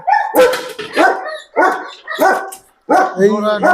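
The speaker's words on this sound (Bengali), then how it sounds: "আর এই 2টা ইন্ডিয়া থেকে আনা 2টা কুকুর।" German Shepherd dogs at a dog farm in Bangladesh bark loudly and close in a run of repeated barks with short pauses, some yelping edges between them.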